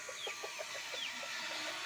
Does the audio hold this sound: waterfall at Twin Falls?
no